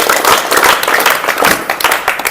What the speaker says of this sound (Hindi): तो चलिए जोरदार तालियों से वेलकम करते हैं मिस पुष्पा देवी का।